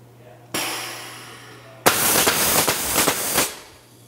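A fireworks firing system sets off shots in a screw-set pattern: a sharp ignition pop, then a loud burst of rapid crackling cues firing in quick succession, close and with no talk.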